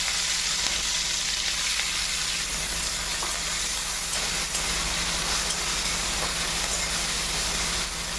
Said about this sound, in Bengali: গরম হয়ে গেছে, এখন আমি চিংড়ি মাছগুলো ভেজে নেব।